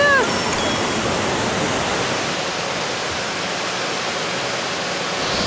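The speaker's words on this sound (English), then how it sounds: "Now we're going to go on the baby waterfall." A small waterfall in Yilan, Taiwan, during a canyoning outing roars as a steady, loud broadband rush of falling water that fills the whole stretch without talk.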